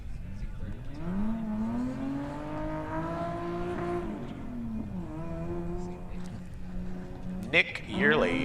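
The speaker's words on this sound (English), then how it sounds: "Oh, sounds like he missed a gear there." A Nissan Z32 drift car at a street league drift competition revs hard with a steady, rising engine whine, then the note drops and stumbles as the driver misses a gear. People talk over the engine throughout.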